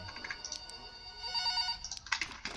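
A telephone rings inside the Roblox horror game Forgotten Memories, a repeated electronic ringtone with bright tonal bursts, fairly faint and alone with no talking.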